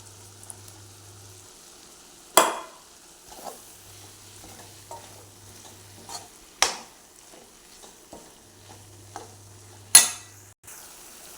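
Pan of sautéed vegetables with fried squid stirred in, a faint low sizzle punctuated by a few sharp spatula scrapes and clanks spaced several seconds apart.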